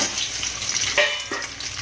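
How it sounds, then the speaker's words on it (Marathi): Steady broadband sizzling of eggs frying in hot oil, close up, with a couple of small clinks partway through. "तर आता आपण ह्याच्यामध्ये ही अंडी तळून घेऊया"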